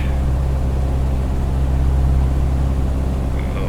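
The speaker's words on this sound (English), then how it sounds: "Listen to that engine, that sounds really great." Constant low engine drone of a Cessna 152 cruising in Microsoft Flight Simulator, a loud, unbroken propeller hum without any voices.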